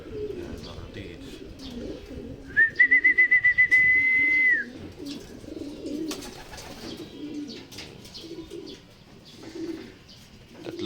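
Racing pigeons in a family loft, including Percy Brown birds, give a pulsed, repeated call lasting about two seconds amid low background rustle, with someone talking nearby.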